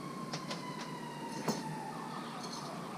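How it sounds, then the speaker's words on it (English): A distant emergency vehicle siren wails steadily as it passes, behind constant low background rumble, with a few faint clicks and taps of work on a pickup truck nearby. "apparently there is a ambulance or a fire truck driving by"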